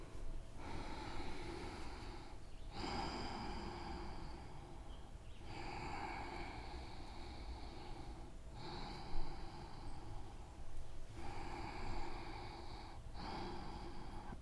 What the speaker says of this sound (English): And now just breathe into it about 3 breaths.